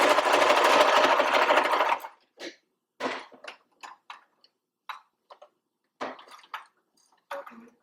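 A sewing machine stitches a pocket cloth diaper in a loud, steady run of about two seconds, then gives several short separate bursts of stitching with pauses between them.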